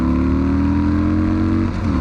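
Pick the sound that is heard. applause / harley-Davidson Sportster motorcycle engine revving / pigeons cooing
harley-Davidson Sportster motorcycle engine revving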